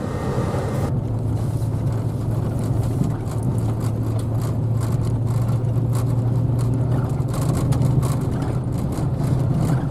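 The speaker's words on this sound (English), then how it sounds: "this road gets so miserable bad with these washboards, you can't hardly even drive up it" A vehicle rumbles along a washboard dirt road, its engine drone steady and loud with a constant rattly roar from the rough surface, heard from inside throughout.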